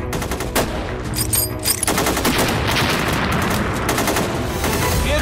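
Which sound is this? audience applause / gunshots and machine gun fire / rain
gunshots and machine gun fire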